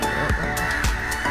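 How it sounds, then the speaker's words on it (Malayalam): A crow at Vaikom Beach gives three loud, close, harsh caws spaced evenly apart. "കാക്ക"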